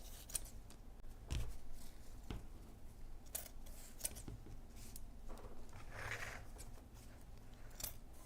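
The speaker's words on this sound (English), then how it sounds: "These scissors are struggling with this ribbon." Scissors snip through ribbon in several quiet, crisp cuts spaced irregularly, close up in a calm indoor room.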